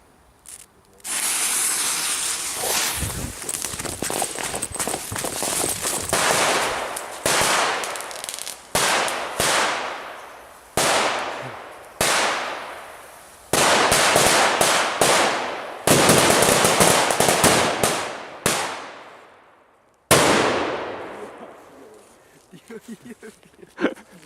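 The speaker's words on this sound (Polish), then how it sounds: "Proszę bardzo, taki oto karabinek 3C4, jakieś nitroksy, jakieś eksplozywki." A Polish 3C4 karabinek firework cake firing, launching nitro and explosive effects outdoors on New Year's Eve: a long rapid string of sharp loud cracks and bangs in bursts, each volley trailing off in crackle before the next, with voices faintly in the background.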